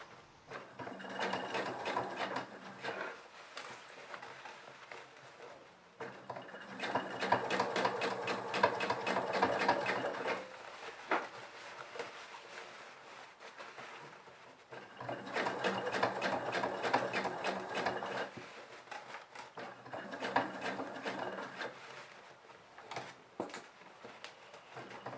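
Sewing machine stitching jeans denim, a close, fast mechanical whirr running in long bursts with short pauses between seams, no talking.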